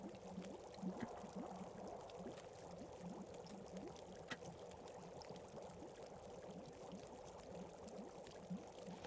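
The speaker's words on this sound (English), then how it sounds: "We'll go when this water's boiled." Water boiling in a kettle inside a video game, a soft continuous bubbling and gurgling that stays low and steady throughout with no talking.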